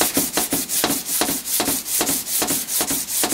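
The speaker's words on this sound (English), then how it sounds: "Then you would start block sanding." Rhythmic scraping strokes of block sanding on metal, about a dozen even back-and-forth passes close up, steady and moderately loud with no voices.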